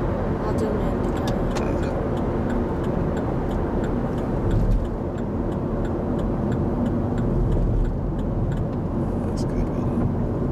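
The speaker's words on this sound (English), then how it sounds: "I'll do an indicator." A car's turn indicator ticks in a steady, even rhythm inside the cabin during a driving lesson on a two-lane road, faint clicks over a constant loud road and engine rumble.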